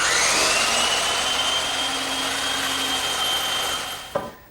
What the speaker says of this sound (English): why waste a bandsaw when it's right here in the shop?